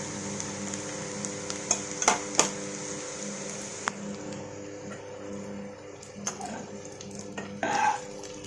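Okra stirred in a hot pan with curry leaves and a dried red chilli, a steady low sizzle of frying broken by a few sharp clinks and scrapes of a spoon against the pan.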